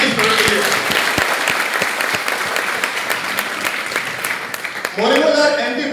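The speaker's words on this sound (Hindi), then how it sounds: "तो एक बार मैं ताली जमाऊं इस प्रोडक्ट के लिए।" An audience claps loudly and continuously at a product training session, with some hard individual claps standing out near the front and a voice starting to speak over the applause near the end.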